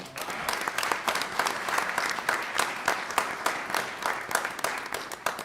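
An audience at a school board meeting claps steadily for student award winners. The applause is even and fills the room throughout, with only faint crowd noise beneath it.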